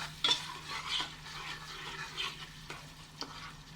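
A spoon stirs paprika masala in a pan for prawn biryani, scraping and knocking against the metal in irregular strokes over a soft, steady sizzle, with no voices.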